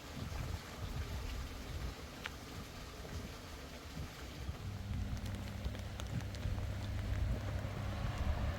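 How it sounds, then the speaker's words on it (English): Rain falls steadily on a surface outdoors in Japan, a faint, even patter with a low rumbling background throughout. "It's raining."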